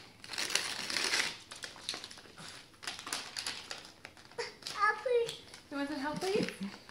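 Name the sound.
ripping and crumpling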